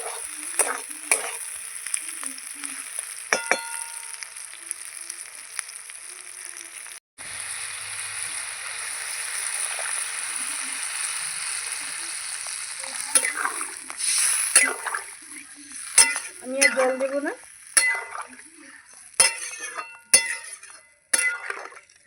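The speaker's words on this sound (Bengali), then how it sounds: "আলু খুব ভালো করে কষিয়ে নিয়েছি দেখুন আমার কষানো হয়ে গেছে এবার জল দিয়ে দেবো" Water poured into a pan of spiced potatoes that have been frying in masala, bursting into a loud steady hiss and sizzle, followed by bubbling and clattering stirring strokes near the end.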